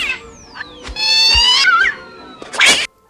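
A cat lets out a loud, drawn-out meow close by, followed by a brief rough yowl, with short quiet gaps around the calls.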